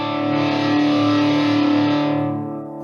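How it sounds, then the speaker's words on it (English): Electric guitar through a distortion effect rings out one sustained, buzzing power chord, loud and up close, gradually fading toward the end. "The level of distortion is getting lower and lower."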